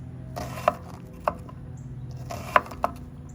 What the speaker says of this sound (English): you got perfectly diced onions